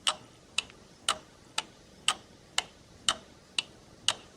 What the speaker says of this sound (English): A clock ticking.